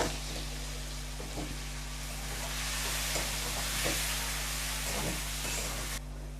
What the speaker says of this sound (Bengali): আর তারপরে পনিরগুলোকে দিয়ে দিচ্ছি। পনিরটা আমি বেশি ভাজবো না